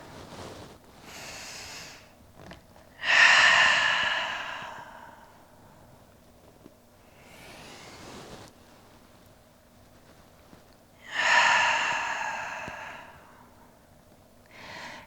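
Quiet yoga-class breathing during a held pose in a trauma-informed session: two slow, audible exhales, airy and sigh-like, spaced several seconds apart against a near-silent room.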